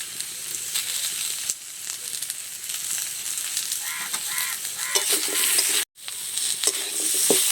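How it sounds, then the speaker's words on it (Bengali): Potatoes with spices, turmeric and salt sizzle in a frying pan while being stirred, a continuous close hiss with repeated scraping strokes and a brief drop-out near the end. "লবণ আর হলুদটা একটু মিশিয়ে নিয়েছি আলুর সাথে"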